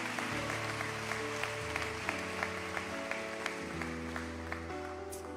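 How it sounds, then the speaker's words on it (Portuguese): Congregation applause in a church service, sustained clapping running under steady keyboard music with a regular beat, moderately loud and even throughout. "Pode aplaudir, se for para Ele, pode aplaudir."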